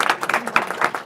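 Conference audience applause at a policy event, a short burst of scattered clapping from a room of people, moderately loud with separate claps audible.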